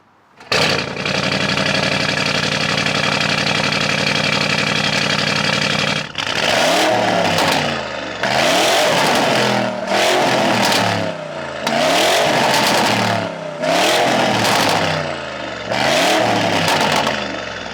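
A loud Porsche 992 911 Turbo S engine with downpipes fitted and OPF removed idles with a raspy drone, then revs hard in repeated surges, each blip rising and falling in sharp bursts close by.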